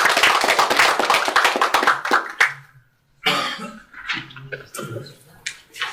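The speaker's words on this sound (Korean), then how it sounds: "힘찬 박수 부탁드리겠습니다." A crowd at a lecture hosted by a district office breaks into applause, a dense burst of clapping that thins and fades over about two seconds before a speaker begins talking.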